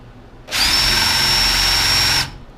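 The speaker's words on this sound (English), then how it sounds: "Okay, I'm letting the drill do the work." A power drill whines at high pitch for about two seconds as it bores through wood, starting and stopping abruptly.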